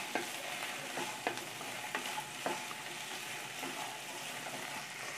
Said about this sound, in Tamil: இப்போ இந்த நல்லெண்ணெயிலேயே இது நம்ம நல்லா வதக்கிக்க போறோம்.